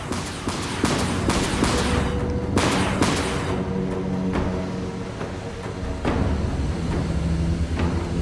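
A corvette's primary weapons fire in the video game Dreadnought, a loud, rapid fusillade of sharp gunshot-like blasts in irregular bursts over a steady low rumble.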